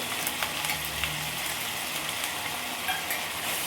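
Tomatoes, curry leaves and ground ginger-garlic paste sauté in a pan for a spicy chicken dish, a close, constant crackling sizzle with occasional sharper pops and no talking.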